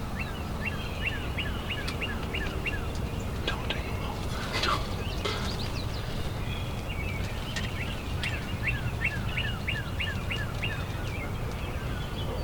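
Wild turkeys gobble repeatedly in the distance during Michigan turkey season, several rattling calls in bursts over a constant outdoor rush of wind and ambient noise.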